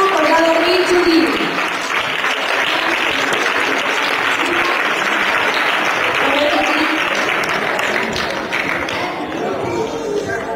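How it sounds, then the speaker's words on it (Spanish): Audience applause for classmates at a school closing ceremony for a family reading course: a dense, continuous wash of clapping that holds steady throughout, with a voice talking over it. "vamos aplaudiendo a los compañeros"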